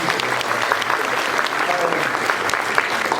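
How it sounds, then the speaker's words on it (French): Sustained audience applause fills a molecular gastronomy lecture hall, a dense, steady patter of many hands clapping at close range for the full few seconds. "On a oublié de les applaudir, ils sont très bien."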